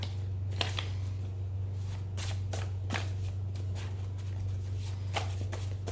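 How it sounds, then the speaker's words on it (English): Tarot cards being shuffled by hand, a run of quick riffling bursts and soft card slaps repeating close by over a constant low electrical hum, with no talk. "try to shuffle all at once because for the people that don't like watching the shuffling"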